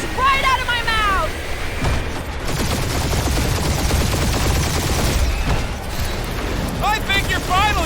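Turrets fire in the Guardians of the Galaxy video game, a loud, continuous barrage of rapid shots and booming blasts under game voices talking, with chirping sound effects near the start and end.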